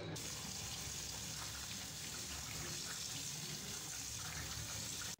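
Boiled vegetable noodles are rinsed under a running cold-water tap, a steady, close gush of water splashing into a sink throughout.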